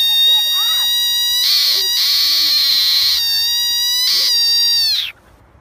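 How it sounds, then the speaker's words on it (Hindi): Small angry frog giving a loud, close, sustained buzzing croak with strong harmonic overtones, broken by brief pauses and ending abruptly into near silence. "इस छोटा मेंढक का गुस्सा देखने लायक है।"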